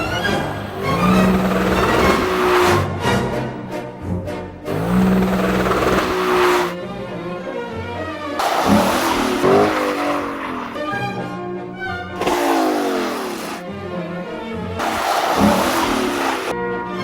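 Car on the ice of frozen Lake Baikal, its engine revving hard in repeated surges with tire noise and skidding, loud and close, no talking.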